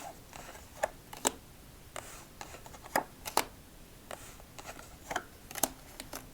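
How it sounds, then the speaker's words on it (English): Sharp intermittent riffling and snapping of playing cards being shuffled, close and crisp, in irregular bursts. "let's just stack up our victory cards and do our victory"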